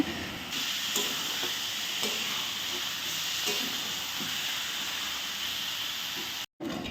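Cumin and Kashmiri chili powder sauté in hot oil, giving a steady, close sizzling hiss that runs evenly throughout and cuts out for a brief instant near the end.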